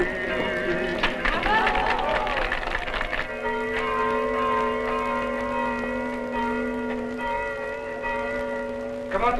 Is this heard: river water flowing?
no